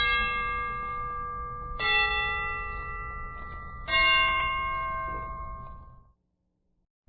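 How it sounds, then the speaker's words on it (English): Christmas bells ring out in three separate peals, each a loud, shimmering strike that rings on and slowly decays, then fades to silence near the end. "The Christmas bells can ring anytime they're ready."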